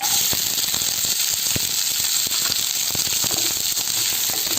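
Ingredients roasting in a pan for an Odisha-style aloo dum dahi vada, giving a steady bright sizzle and hiss with scattered crackles and pops, close and continuous with no voices.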